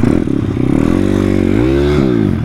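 A YCF 150 SM pit bike's engine is revved hard and close, its buzzing note climbing and dipping in pitch through several throttle blips with no talk over it.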